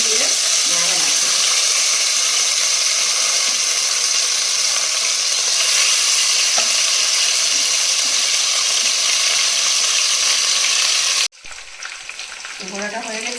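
Food fries in mustard oil with a loud, steady sizzle up close, broken by occasional stirring, then cut off abruptly near the end, leaving a quieter background.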